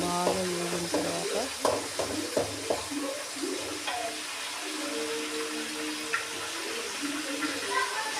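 Tomatoes and green chillies fry in a pan for a mutton fat curry, giving a steady sizzle broken by irregular spoon-stirring clatter, with a faint voice running underneath.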